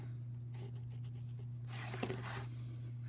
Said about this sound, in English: I just like to either take a ruler and draw on here.